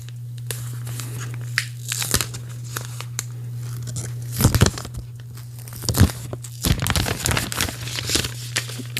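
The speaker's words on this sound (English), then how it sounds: "let's go ahead and peel off the plastic." Protective plastic film peels and crinkles off a new AGM X6 Phantom 5G smartphone, intermittent tearing and crackling bursts close by over a steady low electrical hum.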